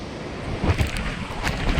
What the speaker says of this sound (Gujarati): પવન જોરદાર છે અહીંનો